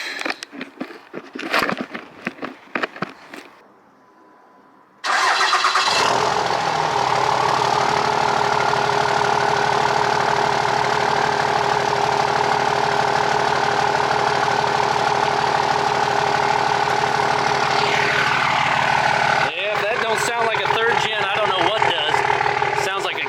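A 5.9 Cummins diesel in a Mega Cab truck cranks over and fires, then settles into a loud, steady idle that holds for most of the span. Talk comes first, and the idle changes near the end.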